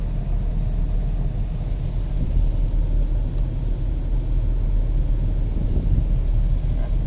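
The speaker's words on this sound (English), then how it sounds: "Idling nice and smooth." A Guards Red 2004 Porsche 996 Carrera 4S with a 6-speed and Aero Package idles smoothly, a loud, steady low rumble heard up close that holds evenly with no revving and no talking.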